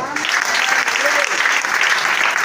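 A church congregation applauds loudly and continuously at close range, a dense crackle of clapping hands that fills the whole moment without letting up.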